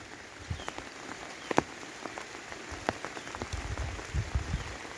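Steady rain falls outdoors around a rural home in Nong Khai, Thailand, a close, even patter broken by scattered louder drips and taps, with no talk.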